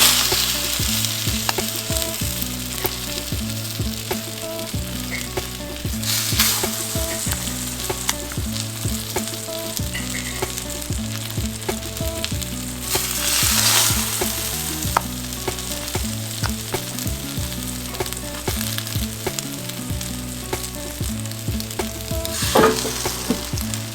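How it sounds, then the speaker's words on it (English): Sausage frying in a pan, grease crackling and sizzling continuously and close, with a dense popping texture and occasional louder surges of hissing throughout. "the sausage is boiling down nice and all the grease is coming out"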